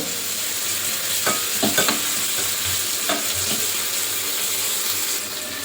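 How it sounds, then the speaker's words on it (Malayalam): Sliced onion frying on high flame for egg biryani, a steady loud sizzle close by with a few clustered scrapes and knocks as it is stirred, no one speaking. "സവാള ഫ്രൈ ചെയ്യുന്ന സമയത്ത് ഹൈ ഫ്ലെയിമിൽ വെച്ചിട്ട് നമുക്ക് ഫ്രൈ ചെയ്തെടുക്കാം"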